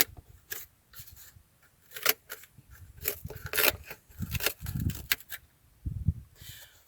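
Ruike M61-G multi-tool scissors snipping through a small piece of cardboard, a series of close, crisp cuts and crunches in uneven bursts, with handling rustles between.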